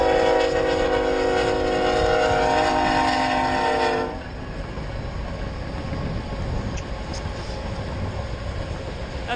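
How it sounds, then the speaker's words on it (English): A long coal train rolls past at close range: a steady, loud rumble of wagons on rails, with a horn blast held over it for about four seconds before the horn cuts off and the rolling carries on. "Big old coal train."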